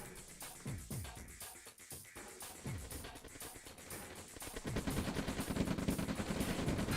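Rifle and gunfire in a real-time strategy video game, with rapid bursts of small-arms shots and scattered rocket-like booms, building into a denser continuous barrage toward the end, fairly quiet overall.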